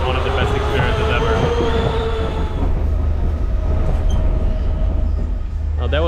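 A moving passenger train in Sri Lanka gives a loud, continuous rumble with metallic squeals and rattling, a muffled voice blending in early on.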